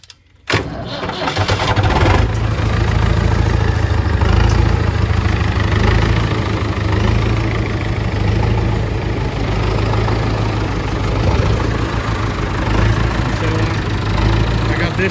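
Ranch tractor engine cranking and catching after a brief quiet start, then settling into a loud, steady, rumbling idle that runs on continuously, close by.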